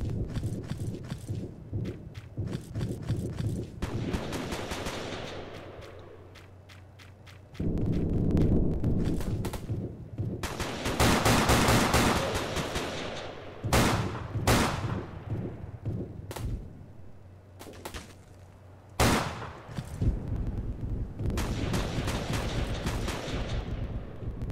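SCAR-H rifle gunfire in the Roblox shooter Shellshock, with repeated sharp bursts and single shots spread through the scene over a busy game backdrop of footsteps and ambient noise.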